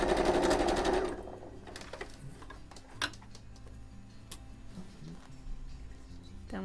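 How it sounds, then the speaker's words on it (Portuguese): Sewing machine stitching a fabric pouch, with a loud motor burst at first, then softer rhythmic ticking and clicking close by, with quiet pauses between short runs. "E eu vou fazer uma costura para unir"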